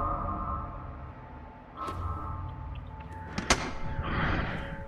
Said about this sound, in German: Bär, geh rein, mach die Tür auf!